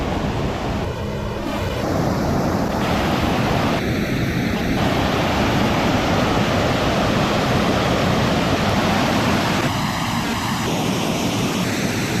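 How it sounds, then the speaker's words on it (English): Rock Run river flows steadily below a backpacking trail, a constant broadband rush of moving water with wind, loud and continuous throughout, with a few brief bird-like chirps over the top. "There's a Rock Run River down there."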